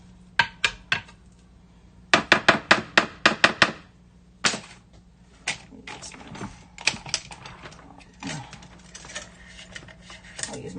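A spatula scrapes hummus out of the bottom of a Vitamix blender jar, making sharp clattering knocks and scrapes in quick bursts, loud and close, with quieter scraping between them.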